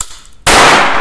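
Remington Elliot derringer pistol firing once outdoors, a single sharp loud report after quiet, followed by a lingering bright echo.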